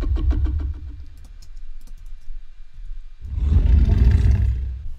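Designed T-Rex roar built from layered lion recordings: a rough, pulsing growl that fades into quieter rumbling, then a loud, broad roar bursts in near the end, close and heavy.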